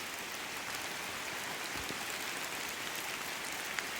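Steady rain falls outdoors in the woods near old homesites and graves in Stringtown, Kentucky, a continuous broad hiss of drops on leaves and ground with no voices, holding an even level throughout.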